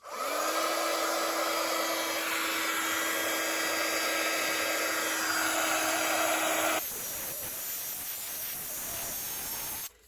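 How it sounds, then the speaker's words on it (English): A handheld craft heat tool blows steadily to dry paint on vintage tags, a constant whirring hiss that shifts to a lower, rougher tone partway through before cutting off, with no voices. "I get me heat tool out"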